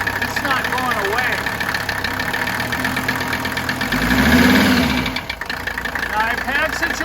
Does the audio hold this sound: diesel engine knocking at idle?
yes